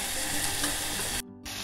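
Onions sautéing with salt and turmeric in a pan, a steady close sizzle that briefly cuts out before resuming at a lower level.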